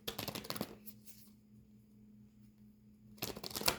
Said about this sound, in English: We'll shuffle a few times.